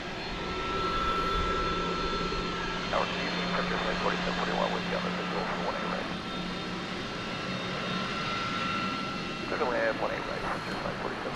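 Aircraft engines at DFW Airport at night make a steady, broad roar that fills the whole stretch, with a faint murmur of voices underneath.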